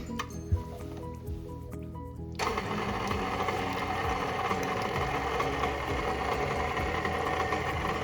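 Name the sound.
electric mixer mixing buttermilk pie batter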